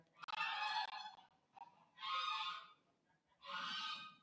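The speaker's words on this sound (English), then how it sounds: "Morning geese." Geese honking in the morning outdoors: three loud, harsh bursts of honking calls, each about a second long, separated by short quiet gaps, with no voices.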